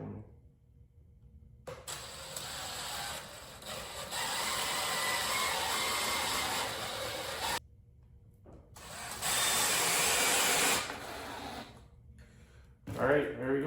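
A Ryobi drill drives screws into a soft teak board for a homemade kayak bench, with two long, loud whirring bursts separated by a short pause and brief talk at the edges.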